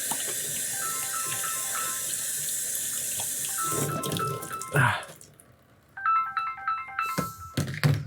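Water runs steadily from a bathroom tap while hands are washed, a constant close hiss under a repeating phone ringtone; the flow cuts off briefly near the end before the ringing resumes.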